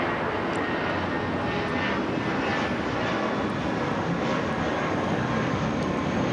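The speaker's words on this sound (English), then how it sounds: "2239 taking off to San Antonio on the A319" An American Airlines Airbus A319 takes off at Los Angeles International Airport, a broad steady jet roar that holds at an even level, moderately loud and without voices.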